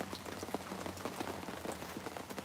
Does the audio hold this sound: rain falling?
yes